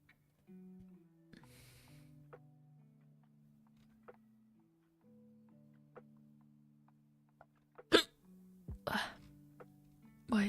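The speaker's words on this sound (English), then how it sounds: "Why is my water giving me the hiccups of the heck?" A person hiccups after drinking water: several sharp, abrupt bursts close to the microphone near the end, over soft steady background music.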